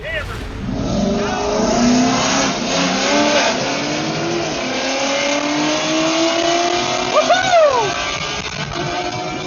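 A BMW F30 340i launches on a dragstrip, its engine revving loudly and climbing through rising gear pulls, with a shift near the end, heard close up with a voice talking over it.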